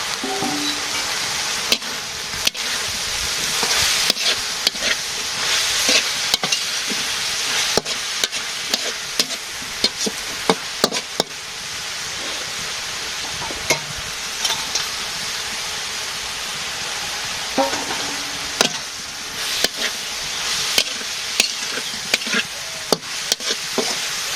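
Small taki fish fry with spices and onion in a pan, giving a continuous close sizzle. A utensil stirs and scrapes with frequent sharp clinks throughout.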